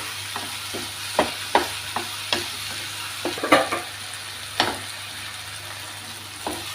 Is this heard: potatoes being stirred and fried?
yes